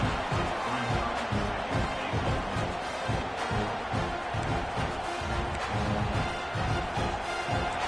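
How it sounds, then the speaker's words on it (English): Steady roar of a football stadium crowd at a #1 FSU vs #6 LSU game. The wide, dense wash of noise holds at a constant level, with a low rumble underneath, through the whole stretch. "And here comes the noise. This crowd is trying to inspire this defense to make a big red zone stop."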